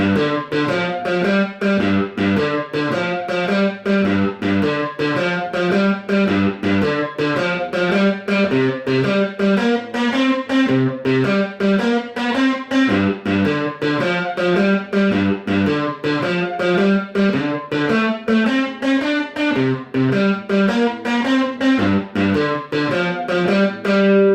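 Up-tempo Texas blues shuffle on a distorted electric guitar, steady driving rhythm with chugging chords throughout, loud and close, no voices.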